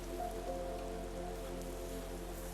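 Steady rain falling outside a cozy home, a soft continuous patter with a faint low hum underneath and no voices.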